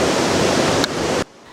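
Broadband roaring rush of Victoria Falls heard from below at the Boiling Pot, loud and unbroken before cutting abruptly to a much quieter hiss.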